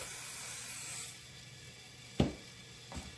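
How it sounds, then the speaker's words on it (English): A steady hiss of cooking oil spray for about a second, onto stuffed bitter gourds, followed by quiet and a sharp clunk of something being set down. "Spray some oil on the other side"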